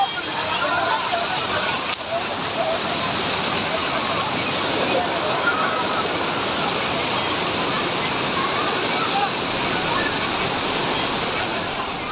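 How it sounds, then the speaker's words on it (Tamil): Old Courtallam waterfall in sudden flash flood pours out a steady, loud, broadband roar of rushing water with no let-up, with a voice talking over it. "பழைய குற்றாலம் அருவியில் திடீரென வெள்ளப்பெருக்கு ஏற்பட்டது"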